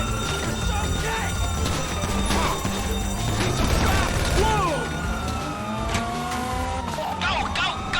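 A getaway car speeds off after a bank heist in GTA Online, its engine revving loudly with long, sweeping tire squeals and skids over constant traffic and game noise, and a brief crash-like knock.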